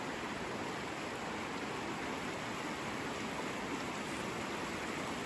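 Floodwater rushing through a creek walk after heavy water, a steady, broadband roar of flowing water with no breaks, fairly faint and distant-sounding.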